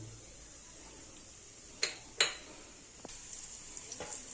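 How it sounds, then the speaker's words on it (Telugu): Chillies frying in a small amount of oil in a pan give a soft, steady sizzle, broken by a couple of sharp metal utensil clinks and a few lighter taps near the end. No voices. "ఫస్ట్ నేను చిల్లీస్ వేసుకున్నాను. వేసుకొని కొంచెం మంచి ఫ్రై కానిచ్చాను"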